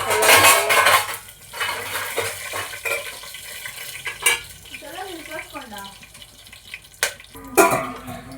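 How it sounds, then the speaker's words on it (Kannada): Chopped onions tipped into a pan for mushroom pulao, with clattering metal cookware and utensil clinks, light sizzling and scraping between sharp knocks, plus brief voices. "ಈರುಳ್ಳಿ ಕಟ್ ಮಾಡ್ಕೊಂಡಿದ್ದೆ, ಅದೇ ಹಾಕ್ತಾ ಇದ್ದೀನಿ"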